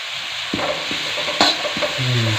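Pork fat frying in a pan, a steady close sizzle with a few sharp clinks and scrapes as it is stirred, a louder crackle near the end, no voices.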